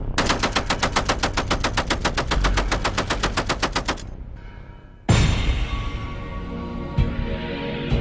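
An M2 "Ma Deuce" heavy machine gun fires a long, rapid, evenly spaced burst of loud shots that stops abruptly. A sharp single bang and a ringing echo follow.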